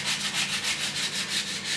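A wooden hammer being sanded by hand, close and loud, with a steady rhythm of rasping back-and-forth strokes, about five per second, and no voices.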